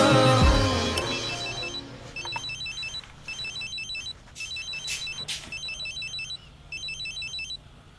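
A phone rings in short repeated electronic trills, bursts separated by brief pauses, after a louder moment of noise at the start.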